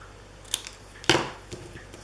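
Scissors snipping paper, two short crisp cuts about half a second apart followed by a faint rustle, close by in a quiet room.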